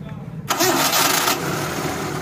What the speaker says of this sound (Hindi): सेल्फ लगाओ गाड़ी को,